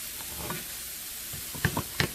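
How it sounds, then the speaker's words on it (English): Sautéed corn with peppers stirred in a sizzling pan, a soft continuous sizzle with a few brief scraping clicks from the utensil near the end. "Just have to now stir it up."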